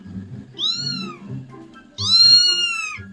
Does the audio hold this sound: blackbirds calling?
no